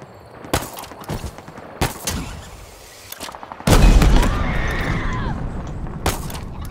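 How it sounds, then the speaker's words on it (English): In the Halo game, sharp gunshots ring out in scattered bursts, loud and close, followed by a heavy sustained rumble of battle with further shots cutting through. "I hear shots."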